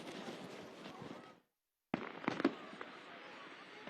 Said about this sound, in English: Got fireworks here at Pleasant Hill Stadium, Eklund Field, as Center celebrating a 53-27 win